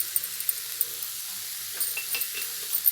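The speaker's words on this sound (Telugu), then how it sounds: "ఇలాగా వేసుకొని ఇది కొంచెం సాఫ్ట్ అయ్యే వరకు ఫ్రై చేసుకున్నాము" Samosa filling fries in a pan, a steady soft sizzle with occasional stirring scrapes and light clinks, close and fairly quiet with no voices.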